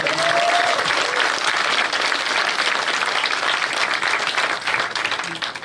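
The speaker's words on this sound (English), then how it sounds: "I think they deserve a huge round of applause." Conference audience applauding at a panel event, dense sustained clapping filling the room at steady volume with a faint tone at the start.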